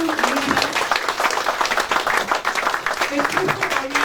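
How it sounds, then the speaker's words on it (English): Audience applause at an inaugural plenary, a steady patter of clapping from a crowd throughout, mixed with a voice speaking over it. "please in a standing ovation and a resounding applause"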